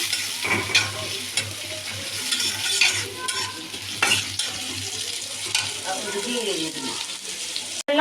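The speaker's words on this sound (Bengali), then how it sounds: "পেস্টে ভাজা ভাজা হয়ে গেছে।" Spice paste fries and is stirred in a pan while making soup and noodles, a steady sizzle broken by scraping stirs and clinks throughout, close and fairly loud, with brief water sounds near the end.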